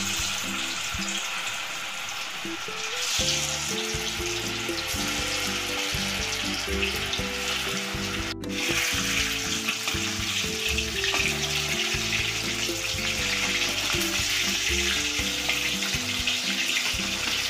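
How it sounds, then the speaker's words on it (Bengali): Fish pieces frying in hot oil in a home kitchen, giving a steady, close sizzle that runs throughout, with occasional clinks and stirring under it. "মাছগুলো অল্প অল্প করে দিয়ে ভেজে নেব"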